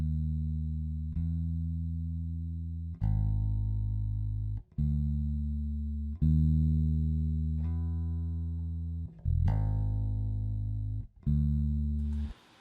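An electric bass plays a solo take on its own: about seven sustained, ringing low notes in an even, unhurried sequence, each one held until the next begins, with no voices.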